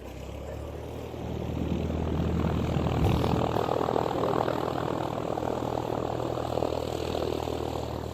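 Propeller aircraft flying low near an airport, a loud droning engine roar swelling in after a second and holding steady as it passes close overhead.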